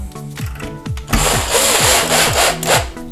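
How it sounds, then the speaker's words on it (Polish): A furniture lock is driven in with a screw by a power driver, giving a close, loud whirring buzz with a rising pitch and a few short stutters at the start. "możemy przykręcić nasz zamek. Na razie złapiemy na jednego wkręta"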